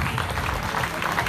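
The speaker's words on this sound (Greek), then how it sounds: "πραγματικά αξίζει ένα θερμό χειροκρότημα για" A crowd at a Greek community gathering gives warm applause, dense, continuous clapping at moderate volume with a slightly muffled, rolling texture.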